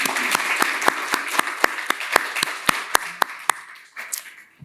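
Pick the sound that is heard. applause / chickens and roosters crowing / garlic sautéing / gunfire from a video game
applause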